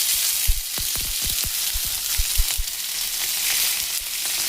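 Boiled potatoes sizzle in hot oil with panch phoron, a dried red chilli and salt, a steady bright frying hiss broken by several dull thuds as the potatoes go into the pan and are stirred.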